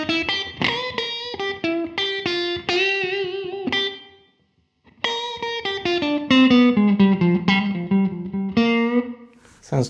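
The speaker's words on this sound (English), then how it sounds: "let's try a room reverb, see how that sounds kind of in a blues situation" Electric guitar playing a bluesy phrase through an HX Stomp room reverb, with a roomy reverb tail, pausing briefly before continuing with sustained, ringing notes.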